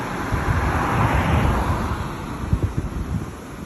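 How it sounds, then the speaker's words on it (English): Strong wind gusts during Storm Darragh in Meopham roar and buffet the microphone in a continuous loud rumble, swelling and easing with a few harder thumps toward the end. "Maximum wind gust so far"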